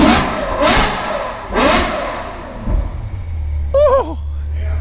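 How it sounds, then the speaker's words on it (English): A Ferrari F12 V12 engine revs in several loud rising bursts, then settles into a low steady idle, with a brief higher whine near the end. "Ferrari V12s sound pretty epic."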